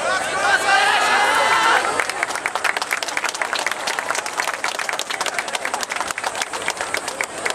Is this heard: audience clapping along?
yes